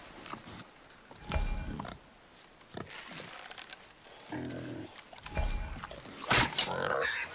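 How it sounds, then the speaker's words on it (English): A wild boar in God of War grunts and squeals in several short, loud bursts spread apart, with quieter stretches and some talk between them. "Wild boar's hide is thick."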